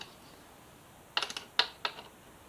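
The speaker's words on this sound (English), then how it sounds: "let's get these bolts out. Start with the bottom one." A ratchet works loose a bolt from the rear sets of a Yamaha FZ6R motorcycle, producing three quick bursts of metallic clicking close up against a quiet background.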